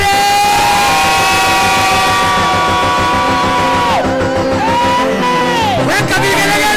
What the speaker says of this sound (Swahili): Nasema muweke vigelegele.